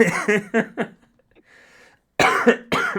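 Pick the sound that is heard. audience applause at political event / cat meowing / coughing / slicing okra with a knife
coughing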